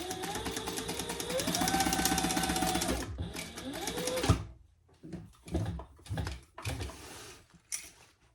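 A sewing machine stitches under a wallet card slot fabric, running in a fast continuous whir for about three seconds, pausing briefly, then running again before stopping; quiet handling clicks and rustles follow.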